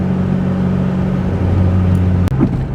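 A turbocharged 4G64 engine in a Mitsubishi Galant hums steadily with a low drone, rising slightly in pitch as it accelerates into boost, before a brief break and a short burst near the end.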